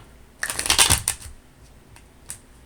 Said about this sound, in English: So I'll get a shuffle on some oracle cards that's from the deck that I made myself.